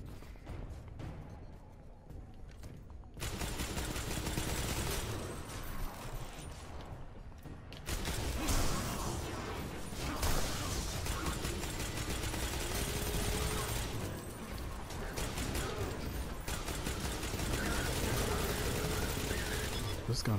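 Gunfire in the video game Destiny, dense bursts of shots and mechanical clatter after a quieter opening, loud and sustained with a voice talking over it at times.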